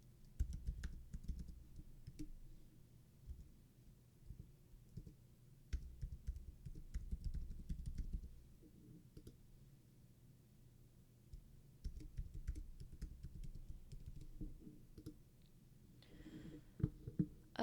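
Someone logs in by typing on a computer keyboard: quiet, close bursts of rapid key clicks separated by short pauses, with a few sharper taps near the end.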